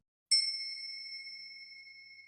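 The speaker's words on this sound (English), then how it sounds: "Not the correct one, but a nice ding nonetheless." An AI-generated ding sound effect: a single clear bell-like strike that starts sharply after a moment of silence, then rings out with a sustained tone that fades slowly, alone and with no voices.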